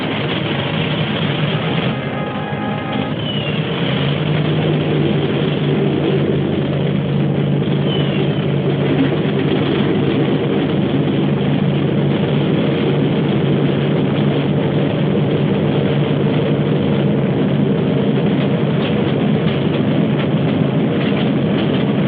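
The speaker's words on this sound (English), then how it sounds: "Start engines." Aircraft engines start up in a 1945 war film, building into a steady, dense, droning roar that fills the whole stretch with no talk over it.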